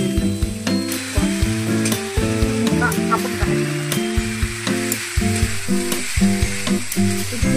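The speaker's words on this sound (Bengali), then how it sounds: "একটু হালকা করে ভেজে নেব পেঁয়াজ আর পাস্তাকে।" Onion and pasta frying in a pan with steady loud sizzling, stirred with frequent sharp scrapes and clinks; a clucking fowl is also faintly present in the background.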